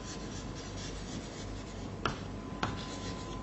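Pen or marker scratching out an equation during a class 10 maths lecture on quadratic equations, soft close writing strokes with a couple of sharp taps, faint steady background hum.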